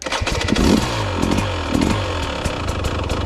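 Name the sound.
KTM 300 TBI motorcycle engine starting with throttle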